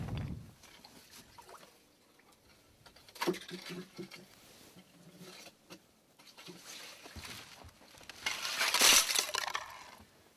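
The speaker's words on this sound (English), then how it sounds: "Got a little skim of ice in the hole, so we'll break that up with the fishing net." Thin skim ice in a fishing hole broken up with a fishing net while spearfishing, a low crunch at the start, a sharper crack near three seconds, then a loud crunching splash toward the end.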